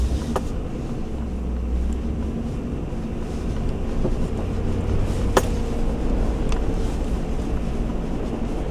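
A vehicle creeping and sliding sideways on a muddy clay country road in rural Prince Edward Island in November, heard as a steady low engine and tyre rumble with wind buffeting, a few sharp clicks, and no talk.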